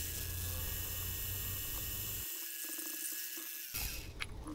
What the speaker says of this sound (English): Now I'm drilling the holes where the M8 screws will go.